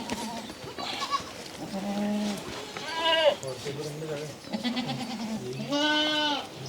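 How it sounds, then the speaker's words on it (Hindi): Several top-quality female Ajmeri goats on a goat farm bleat loudly in repeated, wavering calls, some overlapping, with people talking nearby in between. "टॉप क्वालिटी की अजमेरी बकरी है।"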